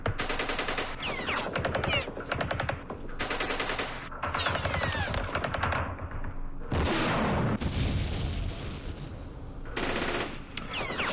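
Machine-gun fire pours into an urban area about 500 meters away in the Campaign Series Middle East wargame, set in the Battle of Jerusalem. Repeated loud bursts and rattling volleys come in clusters with brief gaps, heavy booming shots mixed in.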